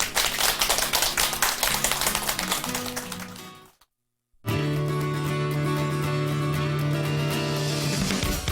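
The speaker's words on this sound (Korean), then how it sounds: "박수로 맞이해 주시기 바랍니다." Applause fills the first few seconds over background music, then breaks off into a brief silence before steady music continues.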